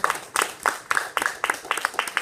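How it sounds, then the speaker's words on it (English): Audience applause, a small group clapping in a steady rhythm of sharp, close hand claps with no talking over it. "Can we give her a round of applause as encouragement?"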